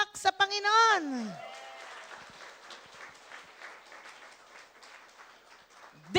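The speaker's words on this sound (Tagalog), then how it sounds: "Malakas, masayang palakpak sa Panginoon." Church congregation at a Sunday service breaking into sustained applause, a dense clapping wash lasting several seconds that fades toward the end, following a brief loud voice at the start.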